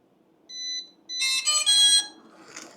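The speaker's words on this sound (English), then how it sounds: "It's going to start beeping because it's going to be trying to connect." Veeniix V11Air drone remote control beeping while it connects: one short electronic tone, then a louder run of bright, ringing beeps, ending in a fainter burst, with no one talking.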